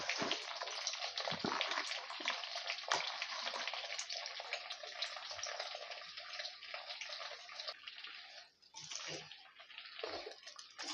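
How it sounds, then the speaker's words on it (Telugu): Flat bean pieces fry in hot oil, giving a steady, dense sizzle that holds without pause for the whole stretch, fairly close and unbroken by talk. "ఇప్పుడు ఆయిల్ కొద్దిగా హీట్ అయిన తర్వాత ఈ చిక్కుడుకాయ ముక్కల్ని వేపుకుందాం."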